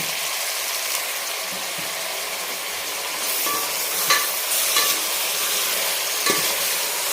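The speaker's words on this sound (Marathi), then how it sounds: "चांगलं तेलावर परतून घेऊ आपण" Green chili masala paste being sautéed in hot oil for a mutton curry, a loud continuous close sizzle with occasional stirring scrapes, no talking.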